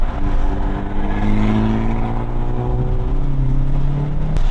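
A 2020 Hyundai Veloster N with the Performance Package accelerates hard close by, its engine note climbing steadily through the gears, with a loud crackle near the end.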